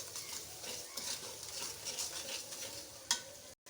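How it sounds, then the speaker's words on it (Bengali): Ginger-garlic paste and cumin paste masala sautéing in oil in a pan for a thin katla fish curry, a continuous close sizzle with soft scraping stirs and one sharp clink near the end, no talking. "1 চা চামচ জিরা পেস্ট, দিয়ে মশলাটাকে আবারও ভালোভাবে কষিয়ে নেব"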